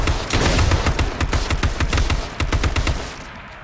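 Rapid gunfire from a video game, a close, loud string of repeated shots in quick bursts that fade toward the end, with no talking.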